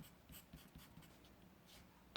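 Pen or pencil writing out a pre-algebra trigonometry problem on paper, faint quick scratchy strokes in short bursts, close and quiet, with a brief louder tap at the end.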